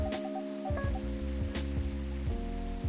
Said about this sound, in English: This rain is really loud.